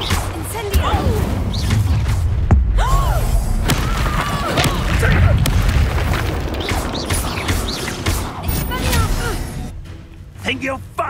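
An Incendio fire spell is cast in Hogwarts Legacy amid a chaotic fight, with booming whooshes, crashes and thuds stacked over game noise while voices speak throughout.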